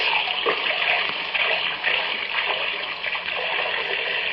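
Cold water pours steadily and close by into a glass in a kitchen in a continuous splashing stream, with a constant rushing texture from start to finish.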